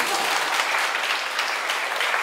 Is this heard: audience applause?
yes